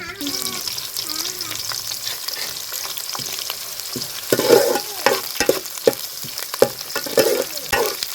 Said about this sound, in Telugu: కరివేపాకు వేసుకుందామండి ఇప్పుడు.